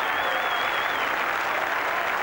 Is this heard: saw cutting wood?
no